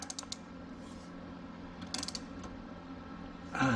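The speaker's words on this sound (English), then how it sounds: "So that's why I grabbed this wrench. I'm going to go ahead and just turn that around." Wrench ratcheting as a bolt is turned while a tow hook is fitted to a Shelby GT350 Mustang, giving close, quiet clicks in short bursts with a louder metallic rattle at the end.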